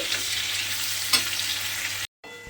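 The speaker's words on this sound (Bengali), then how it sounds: "দিয়ে এবার পেঁয়াজটাকে একটু লাল করে ভেজে নিতে হবে।" Chopped onion frying in a pan gives a steady close sizzle with a single clack of stirring near the middle, then a brief break before the sizzling resumes.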